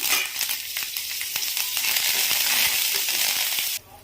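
Curry leaves hit hot oil for a tempering of chana dal and spices, bursting into a loud, crackling sizzle with sharp pops that holds steady before cutting off abruptly near the end.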